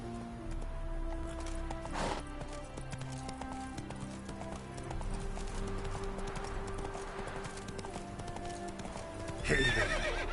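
Roach, a horse in The Witcher 3, clip-clops steadily at a gallop with game music underneath, then gives a loud neigh near the end.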